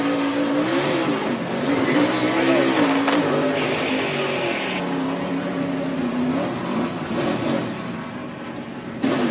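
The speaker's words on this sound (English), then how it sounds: "Hearing that engine rev up generally means the rear wheels are off the ground." A NASCAR Nationwide Series race car engine revs hard and rises and falls in pitch during a crash, loud and close, with radio chatter from a spotter heard over the engine.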